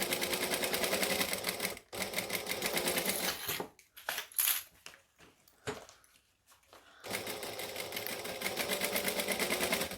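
A sewing machine basts stitches along a fabric edge, running in steady close mechanical whirring runs broken by brief stops and stuttering short bursts in the middle.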